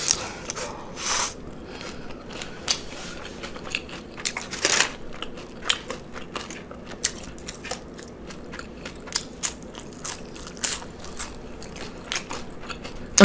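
Loud, close chewing and crunching of cheeseburger sliders served protein style with fries, irregular bites and crackly munches repeating over several seconds with no talking.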